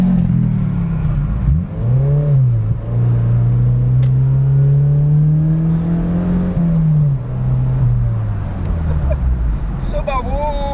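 Engine of a 2008 Mazda Miata on the road, with a steady drone that rises and falls in pitch through gear changes as the car accelerates, loud and close throughout the cabin, with people talking over it.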